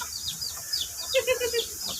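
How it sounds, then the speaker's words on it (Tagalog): Chickens cluck softly in short, scattered calls over a low background hum, with a brief run of clucks in the middle, faint and somewhat distant. "Lalo na ah, manok dito."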